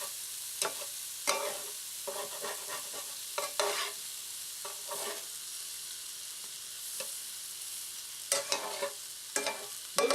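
Shrimp tossed in a frying pan with seasoning for shrimp Alfredo, a soft steady sizzle broken by scattered scraping and clattering stirs, close but quiet.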